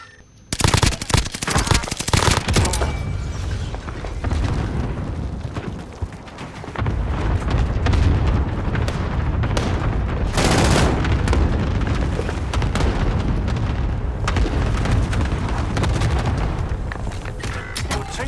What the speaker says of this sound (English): Prepare for airstrike.